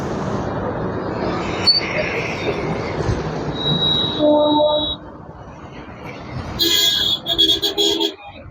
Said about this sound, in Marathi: ट्रेन चालली आहे.